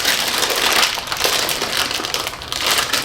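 A bag of potato chips is torn open, giving a loud continuous crinkly plastic crackle with brief sharper rips, close up and without talk.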